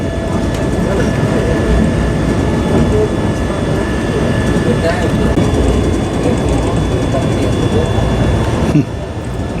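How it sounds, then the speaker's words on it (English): A slow agricultural train on narrow-gauge track in India rumbles past nearby with steady clanking and grinding of wheels and couplings, loud and continuous, ending with a sharp knock. "It's an agricultural train moving slowly in the opposite direction on what I think is narrow gauge lines."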